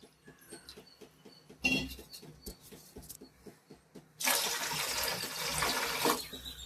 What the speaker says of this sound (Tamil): அது கூட சேர்த்து தண்ணி ஊத்திக்கலாம்.